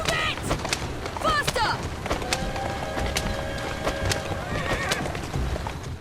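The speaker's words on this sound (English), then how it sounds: "The horse carriages control like cars with nitrous as you ram into other carriages twisted metal style." Horse-drawn carriage horses galloping in Assassin's Creed Syndicate, quick hoofbeats clattering along with wheel rumble, sharp knocks and a whinny over busy street noise.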